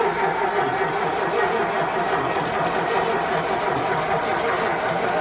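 Engine of a 1953 Meteor car on a cold start, running with a fast, steady mechanical clatter and rattle at close range throughout, with no voices.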